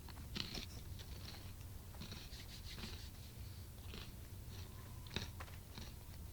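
A person eats a crunchy snack up close, with soft irregular bites and crunching chews scattered over a quiet background and no talking.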